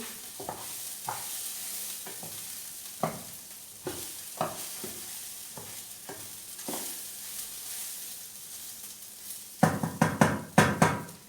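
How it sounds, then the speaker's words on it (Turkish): Rice toasting in a pot for Turkish pilaf gives a soft, low sizzle, with a spoon stirring and scraping against the pot in irregular knocks that grow louder and quicker near the end. "Pilavımızın pirinci biraz daha kavrulsun arkadaşlar şu şekil."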